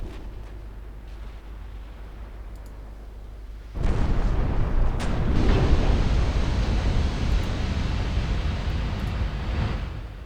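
Heavy naval guns from warships boom in a 1925-era fleet battle of Ultimate Admiral Dreadnoughts, a sudden loud roar that swells into a sustained, rumbling wash of distant gunfire and blasts lasting several seconds.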